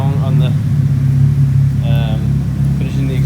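A Nissan 180SX engine rumbles at a steady idle, low and loud, with people talking over it.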